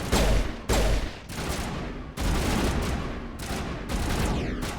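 Loud, dense gunfire from the video game Mass Effect, with several heavy volleys of overlapping shots and sharp bursts that come again and again close up, with no talk.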